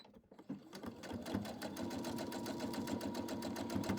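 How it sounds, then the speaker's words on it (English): Sewing machine stitching a quarter-inch seam on a 12.5-inch Hearts Around quilt block, a steady rapid needle rhythm starting after a brief pause and running continuously up close. "We're going to sew right down here."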